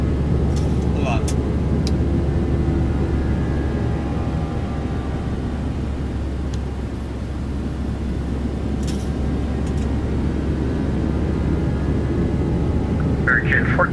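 A Boeing 737-700 on its takeoff roll in a flight simulator, a steady loud roar of engines and runway rumble with a few brief clicks, continuous throughout.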